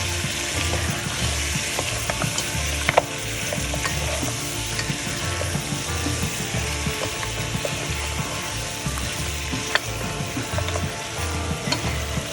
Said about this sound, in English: I'm going to add this chopped part of my cauliflower or gobi and my greens. And we will mix that.